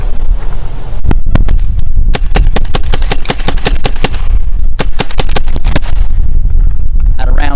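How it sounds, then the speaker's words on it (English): A RAP4 468 paintball marker fires rapidly in clip mode, producing a loud, close burst of sharp cracks in quick succession with short pauses between strings of shots, wind buffeting the microphone throughout. "Now I'm switching it to the clip mode. Let's see how it fires with that."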